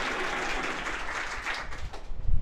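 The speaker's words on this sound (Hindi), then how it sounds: "जोरदार ताली हो जाए" Studio audience on a Hindi quiz game show breaks into brief, loud clapping that stays dense for a couple of seconds and then thins out with some low thumps at the end.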